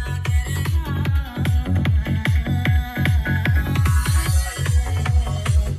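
Music plays through JBL GTO series speakers fitted in a Kia Carens, with punchy repeated bass-heavy beats and melody filling the cabin at moderate volume, steady throughout without talk.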